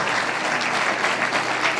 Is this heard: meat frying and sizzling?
no